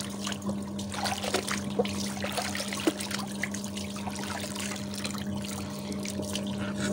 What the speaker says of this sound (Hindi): ये मेरे बेटे के मोस्ट फेवरेट टॉपी, इसको भी धो दूं